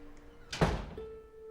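A door in The Last of Us TV episode swings shut with a single solid thunk, briefly loud against a quiet room, followed by a lingering low hum.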